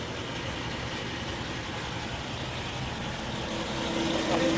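A large Eicher twelve-tyre truck idles just after starting, a steady low diesel rumble continuing evenly at close range and growing slightly louder near the end.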